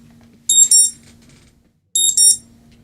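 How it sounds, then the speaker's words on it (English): An alarm on a phone or clock goes off in two bursts about 1.5 seconds apart. Each burst is a pair of quick, shrill electronic beeps, loud and close over a low steady hum. "Is that your alarm? It's an alarm."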